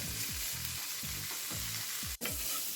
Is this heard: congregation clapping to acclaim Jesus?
no